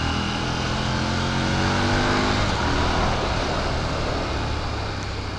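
A Harley-Davidson Street Rod 750 motorcycle hums along the road in a steady, loud engine drone mixed with rushing wind, holding an even level throughout.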